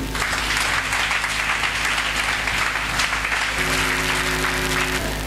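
Church congregation applauding steadily throughout, a dense continuous wash of clapping at even loudness with a faint held tone underneath near the end.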